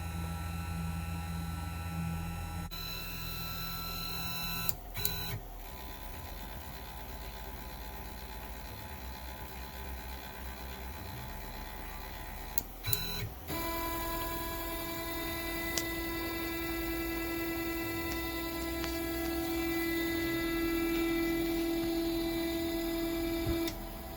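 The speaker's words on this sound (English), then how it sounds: "I'll show you a demonstration how the machine does its homing cycle." A FoxAlien 4040-XE CNC router runs its homing cycle, giving a steady motor whine and hum with stepper tones that shift pitch as the axes move. Brief knocks near five and thirteen seconds mark the moments it changes direction. No voices.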